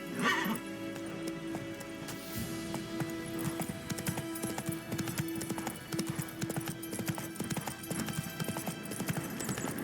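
Roach the horse in The Witcher 3 gallops with rapid, continuous hoof clip-clops, close and prominent, and a brief whinny near the start, all set against in-game ambient music.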